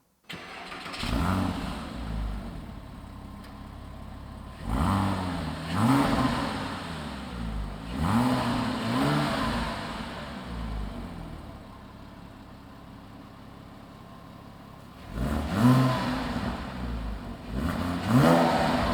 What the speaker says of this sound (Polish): A teraz pokażę Wam jak gada na seryjnym wydechu.